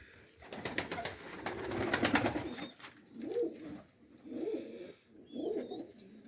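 Kherson breed pigeons coo in a loft, with a noisy, clattering stretch at first, then three distinct rolling coos repeating at a steady pace, close and moderately loud.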